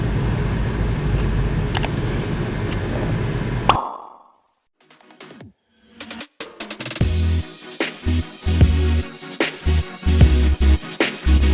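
A parked car sits with its engine on and the air conditioning running, a steady hum for a few seconds before cutting off, followed by scattered clicks and knocks nearby.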